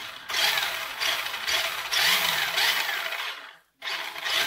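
The electric motor of a used RC car drives it forward and then in reverse, whining in loud close bursts with a sudden brief cut-out near the end.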